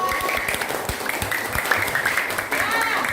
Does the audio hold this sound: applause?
yes